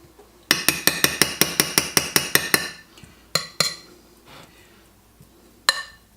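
Metal utensils clink rapidly against a bowl while mixing curry rice salad, a quick run of about a dozen sharp, evenly spaced strikes, then a few scattered knocks with pauses between, close and fairly loud.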